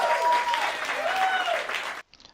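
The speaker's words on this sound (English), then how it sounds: "I have an applause." A recorded applause sound effect plays as a puzzle-success cue, steady clapping and cheering for about two seconds before cutting off abruptly into a short faint tail.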